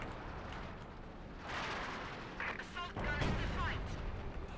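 Artillery fire in the World War II strategy game Company of Heroes 2 booms and rumbles under a constant battle din, with several heavy blasts layered over continuous background noise.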